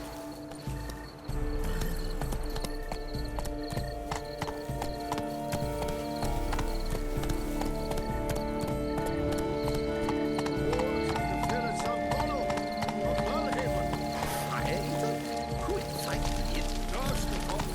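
A horse in The Witcher 3 galloping with rapid rhythmic hoofbeats, neighing loudly partway through, amid game music and effects, with voices speaking briefly over it.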